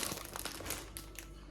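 Crinkling plastic packaging as three bags of mixed salad from a food-aid package are handled, with soft continuous rustles and crackles close by, no talk.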